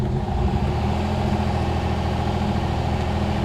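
A 1969 Mercedes car engine idles high with a steady, even drone, close and continuous throughout with no other sounds.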